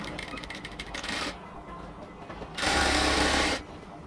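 An overlock sewing machine runs along a cotton kurti seam, a fast rattling stitch for over a second, then quieter handling and a second louder whirring run of about a second.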